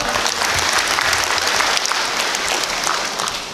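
Dense applause from a large audience at a union members' education meeting, continuous loud clapping in a hall that tapers off at the end.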